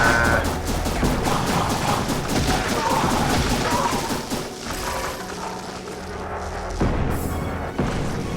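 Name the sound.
gunfire shooting at the player in the video game Ziggurat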